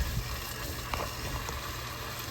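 Water gushing steadily from an open polybutylene pipe at an outside faucet spot during a swap to PEX, a constant broadband hiss and splash running close and fairly loud, with no talk.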